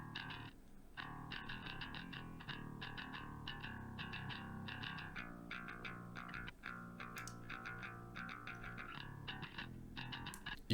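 An overdriven metal bass mid track runs through an Emissary amp simulator, chugging in fast, tight, distorted rhythmic bursts with a gritty upper edge, loud and continuous across about ten seconds with no voices.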